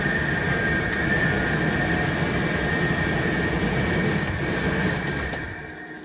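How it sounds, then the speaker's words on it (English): An air conditioner hums inside an RV van, a loud steady broadband roar with a constant tonal whine that holds throughout and eases slightly at the end, no voices. "the noise from the air conditioner"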